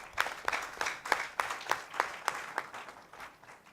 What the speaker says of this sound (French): il faut applaudir les travailleurs pour cette souveraineté-là